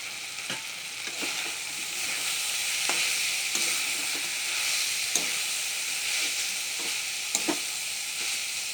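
Banana flower frying with a ground paste of cinnamon, clove and cardamom, a steady close sizzle broken by scraping stirs at irregular intervals, no voices.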